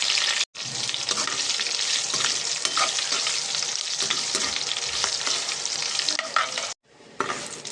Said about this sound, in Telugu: మనం వేసిన పోపు దినుసులు బాగా ఫ్రై అయ్యే వరకు నూనెలో ఫ్రై చేసుకున్నాం.